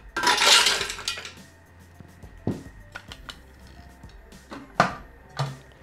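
Almonds are tipped into the mixing bowl of a Thermomix (Bimby TM6, TM5 or TM31) kitchen machine, giving a loud rattling pour at the start followed by scattered light clinks and taps.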